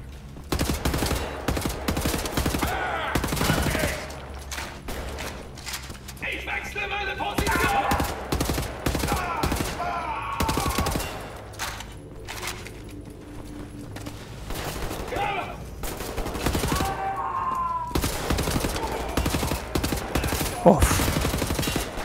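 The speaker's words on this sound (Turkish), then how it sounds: "Çok güzel bir çatışma ortamı be." Dense video-game firefight in Wolfenstein: The New Order, with rapid bursts of automatic gunfire and repeated shots rattling almost without pause, loud and close, mixed with occasional clanks and game effects.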